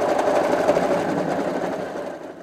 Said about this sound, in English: There is a lot of skill involved when it comes to using a sewing machine